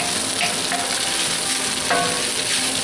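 Bacon fried rice sizzling and being stirred in a cast iron pan, a loud, dense, continuous frying hiss with occasional scraping from the stirring, heard up close.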